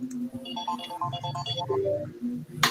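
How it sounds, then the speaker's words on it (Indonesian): A mobile phone rings for an incoming call with a repeating melodic ringtone, heard fairly close in a room during a teaching session. "Sebentar ya, saya ada telepon."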